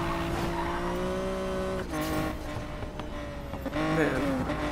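A fast car racing in Need for Speed Payback, engine whining and shifting pitch at high speed with brief tire squeal, fairly faint and steady across the stretch.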